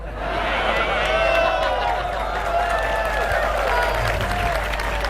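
Audience applause at an Islamic sermon gathering by a preacher: continuous, even clapping from a sizable crowd holds for several seconds while a voice speaks over it.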